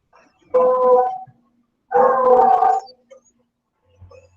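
A dog howls in two long, drawn-out wailing bursts with a whimpering edge, separated by a short silence and fairly close, with no talk over it.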